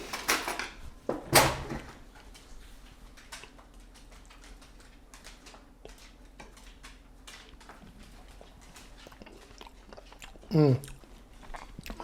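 A diner eats pan-fried flounder meunière with green beans, close chewing and mouth sounds, plus a couple of sharp cutlery clinks near the start and again near the end, all without speech.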